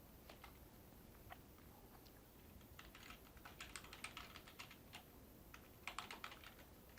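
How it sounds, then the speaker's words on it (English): Someone types a command on a computer keyboard, with faint, irregular clicking keystrokes that cluster into short bursts over a steady low background hiss. "we're going to type the command that you see on page"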